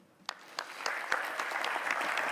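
Audience applause welcoming a speaker at a youth leadership event in Saskatchewan, starting with a few scattered claps and quickly building into steady, full applause from the crowd.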